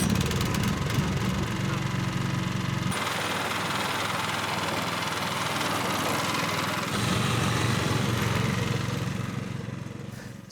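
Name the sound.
Cobra Fortis scarifier mower running with grass box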